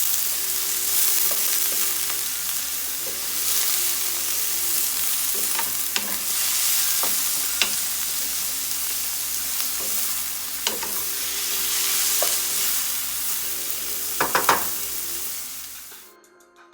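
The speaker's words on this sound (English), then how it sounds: "about 1 scallion, and we are going to saute this" A sliced scallion with bell peppers sizzles steadily in a hot pan, a loud continuous frying hiss broken by occasional scrapes and clinks of stirring, close up and without voices, cutting off abruptly at the end.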